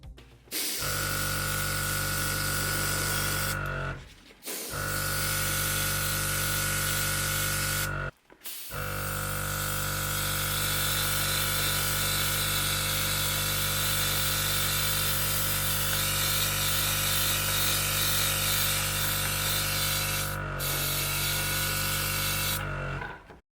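A steady, loud hiss of a GAAHLERI Ambition airbrush spraying paint onto a Matchbox Mercedes-Benz 220 S.E. model body runs continuously with a constant tonal hum beneath, broken by a few brief pauses.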